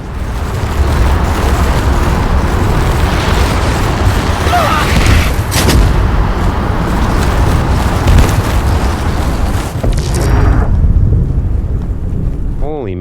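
In the video game Abiotic Factor, a rocket launcher fires and explosions boom in heavy, loud bursts over a rumbling background, with sharp hits around the middle and a fading tail near the end.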